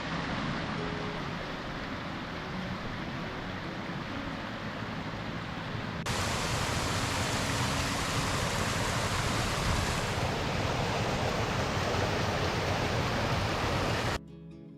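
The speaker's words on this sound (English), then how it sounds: "there's a waterfall right in front of us." A waterfall gives a steady broadband rush of falling water, fairly loud and continuous, swelling a little partway through, with no voices.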